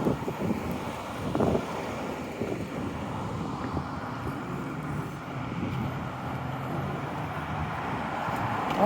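Steady outdoor wind on a cold, breezy winter walk through a park, a continuous low roar and rumble buffeting the microphone, with no speech over it.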